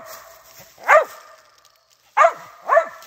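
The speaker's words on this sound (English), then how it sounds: "And there's a dog that's barking" A dog barks three times outdoors among trees in Alabama, with sharp, moderately loud barks at mid distance, one on its own and then two in quick succession, and no talk.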